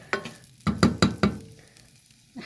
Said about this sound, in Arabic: احمس البصل شويه